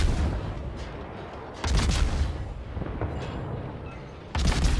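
Gunfire and a torpedo hit in World of Warships, with a destroyer in battle: repeated heavy booming blasts and rumbling explosions in bursts, loud and close, over a continuous din of combat.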